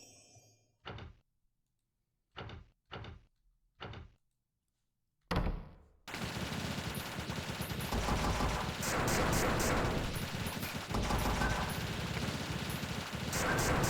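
A Doom shotgun fires in the video game Desktop Survivors: first a few sparse, separated thumps over near silence, then a sudden loud, continuous barrage of overlapping blasts and game sounds.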